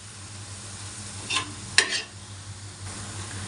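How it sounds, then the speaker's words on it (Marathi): Fenugreek leaves are stirred and sautéed on a griddle, a steady low sizzle with two short scraping stirs near the middle, close and alone. "आता आपण भाजीला पुन्हा एकदा हलवून घेऊया आणि अजून एक मिनिटासाठी हिला छान असं परतून घेऊया"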